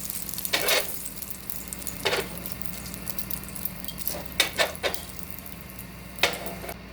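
Bacon frying in a pan, a steady close crackling sizzle with a low hum underneath and a few brief louder spatters and metallic scrapes.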